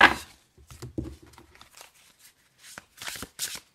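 Close, crisp riffling and flicking of an oracle card deck (Oracle Astrologik) being shuffled, in irregular bursts with short pauses between, alone without talk.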